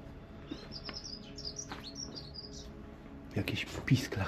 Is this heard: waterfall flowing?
no